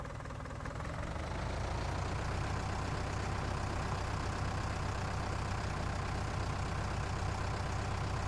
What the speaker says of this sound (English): Beautiful, beautiful tractor.